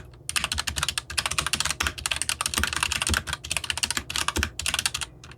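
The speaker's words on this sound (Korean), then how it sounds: "이건 게이트론 적축이 소리입니다." Rapid typing on a mechanical keyboard fitted with Gateron red linear switches: a close, dense stream of sharp keystroke clacks with brief pauses, played alone without talk.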